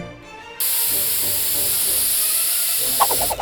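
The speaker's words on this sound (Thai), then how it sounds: "สเปรย์ห้องน้ำเหรอ" Bathroom spray is released from a can in one close, continuous hiss lasting about three seconds, starting abruptly after a brief quiet moment.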